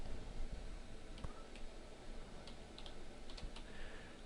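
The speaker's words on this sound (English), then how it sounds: "I'll type line height." Quiet keystrokes tap out a short run on a computer keyboard, soft irregular clicks over a faint background hiss, with no voices.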